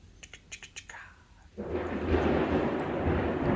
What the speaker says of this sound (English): You hear the thunder, like almost perfect timing.